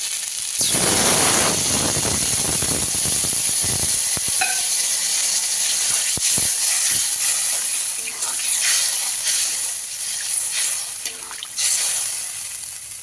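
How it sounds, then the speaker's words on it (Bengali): Water poured into a pan of frying potato and eggplant masala produces a loud burst of sizzling and hissing steam that settles into a steady simmering hiss, with clinks of stirring and a few sharp knocks. "মশলাটা কষানো হয়ে গেছে আলু বেগুনের সাথে। এবার পরিমাণ মতো জল দিয়ে দেবো।"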